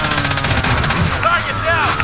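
Rapid gunfire in a Call of Duty Warzone match on Rebirth Island, dense overlapping shots that carry on steadily for the whole stretch, loud and close over the game's constant noise.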